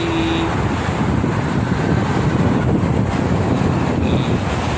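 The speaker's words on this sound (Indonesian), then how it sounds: "Anginnya cukup lumayan kencang pagi ini teman-teman." Strong morning wind buffets the microphone beside the Jakarta-Cikampek toll road, a loud, constant rushing roar with a faint hum of passing traffic underneath.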